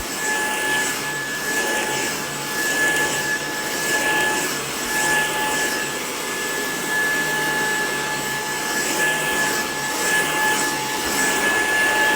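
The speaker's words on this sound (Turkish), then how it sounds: "Sonunda bir süpürgeye kavuştum." A vacuum cleaner runs steadily and fairly loud throughout, a constant whining hum with a broadband rush and no pauses or speech.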